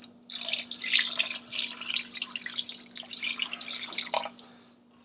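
Chicken broth pours into a pot in a steady trickling stream with splashy spatter, fairly close, ending with a few drips and a low constant hum underneath.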